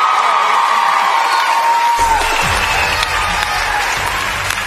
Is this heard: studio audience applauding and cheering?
yes